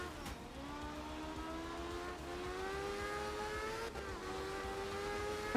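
Rally car engine in Art of Rally, a light, nimble car revving steadily with rising and falling harmonic whine, continuous and fairly close, with a brief dip near the four-second mark.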